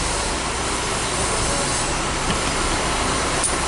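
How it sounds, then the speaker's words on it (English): Trucks run at a trucking company, a steady, loud, broadband engine and road rumble that stays constant throughout, with no voices. "excuse the noise. The trucks all around."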